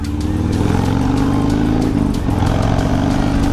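Harley-Davidson Low Rider S 114 cruiser under way, a deep loud V-twin rumble with steady pulsing low throb and wind rush, continuous and close.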